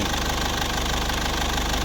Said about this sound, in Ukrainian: А тепер дивіться двигун, він прогрітий.